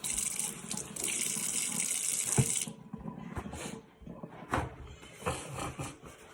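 Water runs steadily from a tap into a sink for about two and a half seconds and then cuts off, followed by quieter clatter and splashing nearby.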